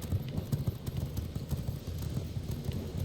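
Rapid, rhythmic clip-clop of horse hooves at a steady gallop in a video game, close and continuous, with no voices.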